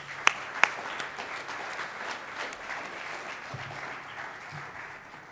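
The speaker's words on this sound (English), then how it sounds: "Could we get one more round of applause for Sam, Jason, and Brian?" An audience applauds after a talk on geothermal design for high-rise buildings. A couple of sharp, close claps come first, then a steady wash of clapping that slowly thins out.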